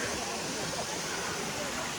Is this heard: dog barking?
no